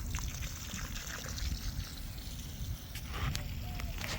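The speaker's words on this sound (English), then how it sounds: "And you can see she's spitting out some water." A homemade HVAC subcooler with a flow control valve spits out water in a steady low trickle and splash, faint and continuous under a broad hiss of ambient noise.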